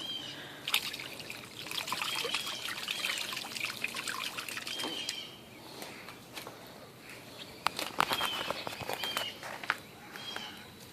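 Liquid pH additive trickles and splashes into the water of an aquaponics pool in a cellar, a steady pour with scattered clinks and drips throughout, fairly close and with no talking.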